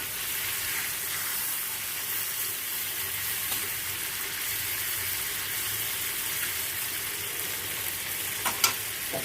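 Prawns frying in a hot pan give a steady, dense sizzle throughout, with a couple of sharp pops near the end.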